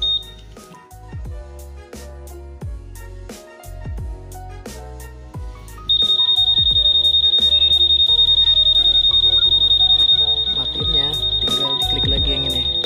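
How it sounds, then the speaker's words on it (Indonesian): A Honda PCX 160 scooter's anti-theft alarm is switched on, giving a steady, piercing high electronic tone that holds for several seconds over background music. "Gue nyalain dulu anti-thief alarmnya."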